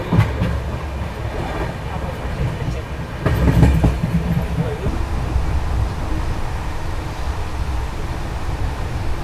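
An express train running from Bangalore to Hubballi, heard from inside as it rolls and gathers speed, with a steady rumble and rattling wheel clatter, a louder surge partway through.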